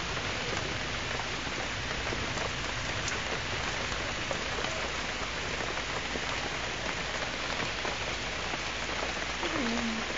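Heavy rain pours down steadily during a tornado warning, a dense, even hiss of drops on surfaces with no voices and no letup throughout.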